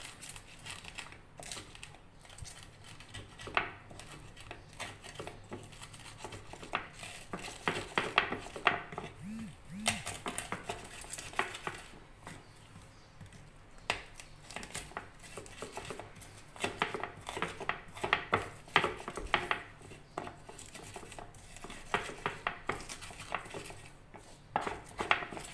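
Candlenut, pepper and salt are ground into a spice paste with steady, irregular knocking and scraping strokes that continue for a long stretch, fairly quiet and close, with occasional faint speech.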